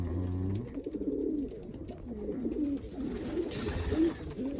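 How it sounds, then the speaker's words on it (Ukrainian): Pigeons coo in low, repeated rounded calls close by, a steady murmuring run of soft throaty notes with a brief higher rustle near the end. "Такі вони собі ці голубочки прекрасніші."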